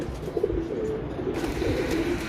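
Pigeons coo softly nearby in a low, repeated rolling call, with faint background hiss and no talking.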